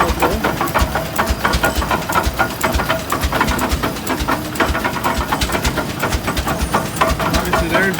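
An antique kerosene-fired oil pull tractor engine runs at a show, giving a steady, rapid chugging beat of firing pulses, loud and close, with people talking over it at times.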